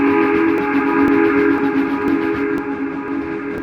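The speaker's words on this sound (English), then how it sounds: "Then he heard a whistle that was not familiar to him" A steady, loud train whistle holds a sustained tone for several seconds alongside rumbling rail noise from a train running in the dark, with no voices.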